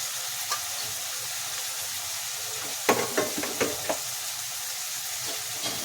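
Vangibath mixture of spiced brinjal being stirred and fried in a pan: a soft continuous sizzle with a cluster of close scraping, clattering stir strokes near the middle, no talk.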